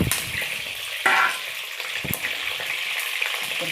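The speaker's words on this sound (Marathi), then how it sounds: "पहिले शिमला आपण फ्राय करून घेऊ." Capsicum sizzles and crackles as it fries in a pan, a constant hissing with a few sharper clacks of stirring, close and alone without any talk.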